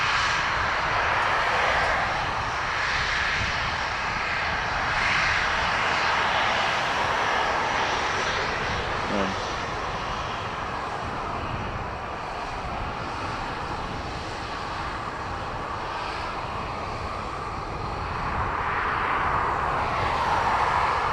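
Ryanair jet airliner flying past at Dublin Airport, a steady broad engine roar at moderate distance that swells and fades gently over a long stretch, with no voices.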